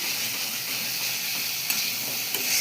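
Masala sizzles and fries in oil for aloo dum, a steady close hiss of bubbling oil with a couple of faint clicks from stirring, moderately quiet and without talk.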